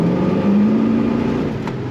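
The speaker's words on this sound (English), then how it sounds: "Nice quiet ride, except for that lovely exhaust note." A 1970 Chevrolet El Camino cruising with a steady low exhaust rumble heard from inside the cab, a continuous, moderately loud drone that holds evenly throughout.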